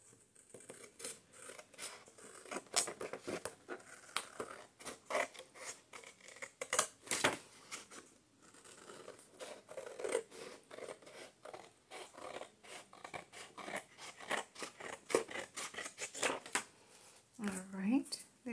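Paper being trimmed off a junk journal's paperback book cover with scissors: repeated crisp snips and rustling handling noises in uneven bursts, close by, with no talking.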